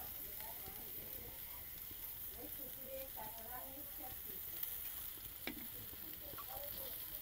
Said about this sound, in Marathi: आपण त्याच्यावर हे जे आपण पानात बांधलेलं पापलेट आहे ते ठेवूया. मस्त आवाज येतोय.